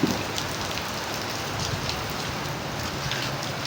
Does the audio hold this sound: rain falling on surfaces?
yes